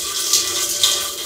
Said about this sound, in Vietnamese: Để nước nó chảy nhanh đi.